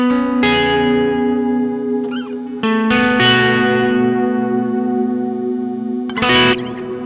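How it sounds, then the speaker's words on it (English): Electric guitar run through an ambient reverb chain in Ableton Live with the low-pass pulled back and the mix around 25 percent: sustained chords bloom and trail off in long washy tails, with a few plucked swells between them, loud and alone. "when it comes to reverb, you sort of want it where you hear the initial attack of, your guitar signal"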